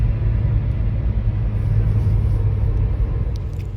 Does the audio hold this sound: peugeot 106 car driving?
yes